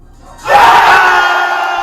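After a brief quiet start, a large crowd bursts into a loud, sustained cheer that holds steady to the end.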